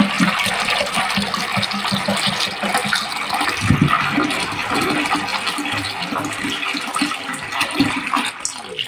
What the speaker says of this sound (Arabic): هنقعه اغطيه بميه وانقعه لغايه تاني يوم الصبح